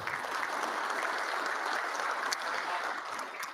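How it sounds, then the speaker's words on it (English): Banquet audience applause at the NTPA awards dinner, a quiet, distant, hissing wash of many hands clapping steadily with no break and no voices. "Let's give them a round of applause."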